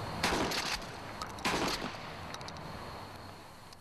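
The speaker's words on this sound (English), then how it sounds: "one of our other SWAT officers is going to shoot the less lethal beanbag round" A SWAT officer fires less-lethal beanbag rounds during a police academy demonstration: two sharp, loud outdoor reports about a second apart, each with a short echoing tail, then quiet ambience.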